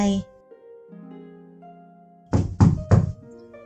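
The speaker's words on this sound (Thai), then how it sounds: "เสียงเคาะประตูดังขึ้น" A knock on a door in a Thai audiobook drama: three loud, evenly spaced thumps follow a quiet stretch of faint background tone.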